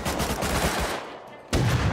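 Video game gunfire crackles in a dense, continuous burst of shots, cuts briefly quieter, then erupts again loud and close.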